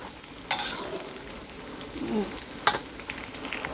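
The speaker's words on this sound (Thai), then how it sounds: "เราต้องเคี่ยว กระเทียม เพื่อกระเทียมขึ้นมา ราดปลากระบอก" Garlic frying in hot oil before mullet is fried, a soft, close sizzle with two sharp bursts of crackle and a spoon scraping the pan in between.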